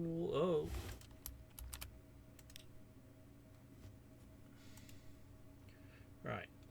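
Quick clicking keystrokes on a computer keyboard, soft and close, come in short irregular bursts while voices talk briefly at the start and near the end.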